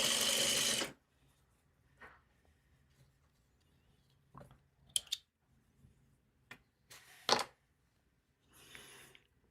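A sewing machine stitches fabric in one loud, brief run at the start. Scattered short clicks and small bursts of handling noise follow, with quiet gaps between them.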